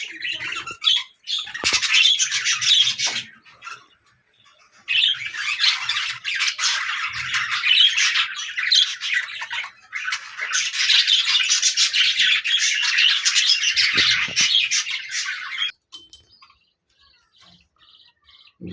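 Budgies in a balcony aviary chatter and squawk in dense, busy bursts of chirping, loud and close, with a few short pauses between long stretches of calling.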